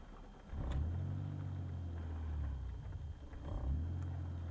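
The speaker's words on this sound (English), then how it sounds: "So here we go. Cold start, Megasquirt, M20 Turbo." A BMW E34 with a turbocharged M20 engine on Megasquirt cranks and fires up from cold, settling into a deep rumbling idle around 1500 rpm, with a second revving surge near the end; close and loud.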